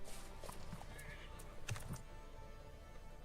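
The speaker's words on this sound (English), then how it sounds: "so that is a horse army" A horse army in the Millenia strategy game whinnies and neighs faintly amid clip-clopping hooves, several short calls scattered over a quiet, steady game background.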